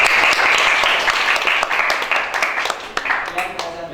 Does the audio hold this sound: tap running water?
no